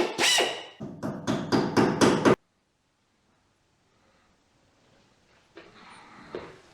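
A hammer drives nails through aluminium trim into wood on a Morris Minor Traveller restoration: a quick run of about five sharp, close metallic strikes in the first two seconds, then near silence with faint shuffling.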